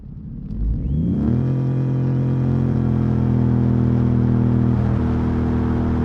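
Car fitted with a CVT transmission accelerating hard during a timed lap. The engine surges up in pitch within a second, then holds a steady, loud droning note close to the listener.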